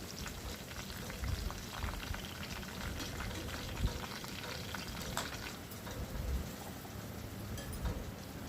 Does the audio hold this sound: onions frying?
yes